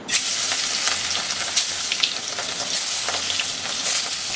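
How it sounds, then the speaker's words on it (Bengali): Fish rubbed with salt and turmeric fries crisp in hot oil in a pan, giving a steady, close sizzle with scattered sharp crackles and pops. "মাছটাকে একেবারে ভাজা ভাজা করে নিলাম।"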